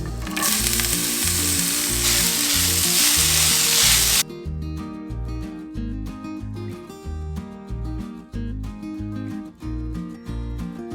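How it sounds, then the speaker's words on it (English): Zucchini noodles sauté lightly in a hot pan, giving a loud, bright sizzle for the first few seconds that then drops to a quieter hiss alongside a faint, steady background tone. "I prefer them a little cooked, so I'm just gonna very lightly kind of saute them."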